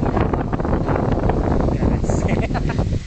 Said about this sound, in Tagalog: sign po na malakas ang hangin.